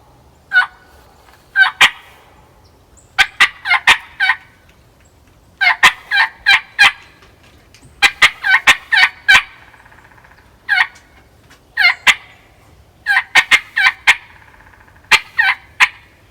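A turkey call worked in repeated yelp-and-cut sequences, sharp clucking cuts mixed with quick yelps in bursts separated by short pauses, loud and close with no talking.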